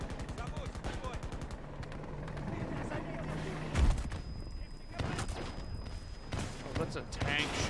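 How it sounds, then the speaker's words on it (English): Heavy gunfire and explosive booms from a tank firing in the shooter game Battlefield 2042, loud and dense, with a big low thump partway through amid rattling shots and a continuous battle din. "Oh, that's a tank shooting"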